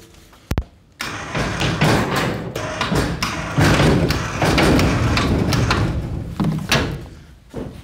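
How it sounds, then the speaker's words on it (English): A homemade shed door on a self-built mechanism is lowered, with a sharp knock at the start, then sustained rumbling, scraping and thudding as it moves down, loud and close. "I'm gonna lower the door."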